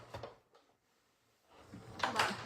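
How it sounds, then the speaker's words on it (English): A drawer slides open and shut with a soft scrape and bump, then a longer, louder rattling slide after a quiet pause, heard close up. "Let me look in my drawer over here."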